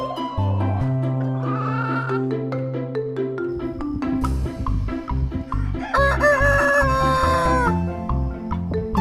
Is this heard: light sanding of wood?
no